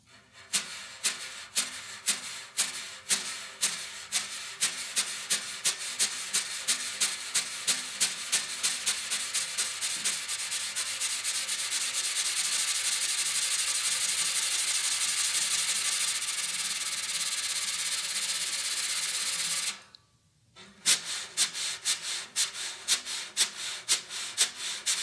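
Drum brushes play a trill rudiment, rapid rhythmic swishes that speed up into a continuous sweeping wash for several seconds, then a brief silence and a return of sharp, close brush strokes.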